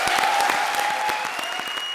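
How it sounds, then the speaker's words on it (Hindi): A comedy show audience and judges break into loud applause for a performer named Krishna, a dense burst of sharp claps carrying on steadily for the whole stretch with no voices over it. "तो जरा कृष्णा के लिए जोरदार तालियां हो जाएं"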